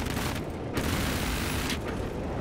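Infantry gunfire in a military video game comes through as dense, rumbling battle noise with scattered shots and distant booms, steady and moderately loud throughout.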